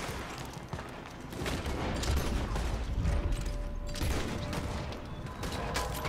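Gunfire rings out in the Red Dead Online western shootout, a dense, steady barrage of shots and metallic mechanism clatter across the whole stretch, with no talk.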